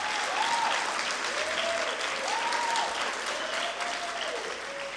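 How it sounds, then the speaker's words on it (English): Steady applause and clapping from an audience at a high school sports awards ceremony, honouring the girls' soccer team, carrying on evenly at moderate distance. Faint tonal sounds rise and fall above it. "Let's give them another round of applause to all our soccer girls"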